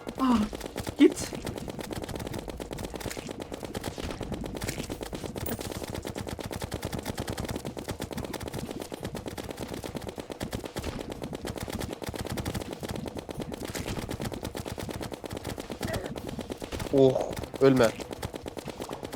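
Rapid, sustained weapon fire in the video game Terraria on Expert difficulty, a dense rattling stream of shots lasting the whole stretch, with a voice breaking in briefly near the end.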